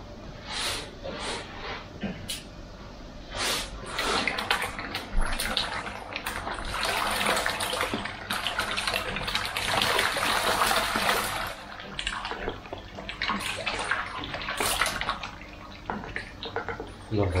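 Water from a high shower outlet splashes into a koi pond, a close, loud, fluctuating spatter and pour with brief drips and pauses.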